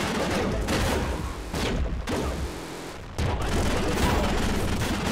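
Rapid gunfire aimed at the player in the top-down shooter Nuclear Throne, a loud, dense barrage of shots and impacts over busy game music, dipping briefly twice before resuming full force.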